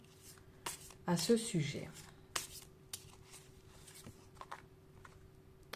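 Tarot cards are shuffled for a reading in quick papery bursts and riffles, loudest early on, followed by scattered taps and card snaps, while someone says a few words in French.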